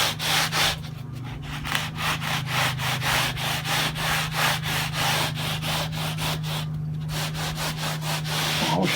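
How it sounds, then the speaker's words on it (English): Guitar frets are rubbed with a smooth, even sanding block in quick regular back-and-forth strokes, a close, dry scraping rhythm over a faint steady hum, with no talking. "So we got a sanding block that's smooth and even."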